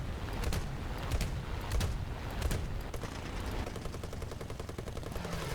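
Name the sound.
gunfire shots from a vehicle combat video game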